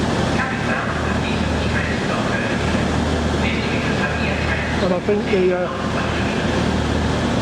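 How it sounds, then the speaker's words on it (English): A train arriving from St Pancras pulls into Sheffield railway station with a steady, loud rumble and hiss that fills the whole stretch, while someone talks over it nearby. "This is in fact the 10:59 arriving from St Pancras."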